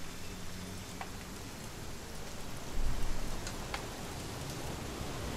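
Steady rain falls in the video game What Remains of Edith Finch, a continuous, even patter that swells slightly for a moment midway, with no voices over it.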